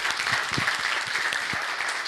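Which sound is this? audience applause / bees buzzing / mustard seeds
audience applause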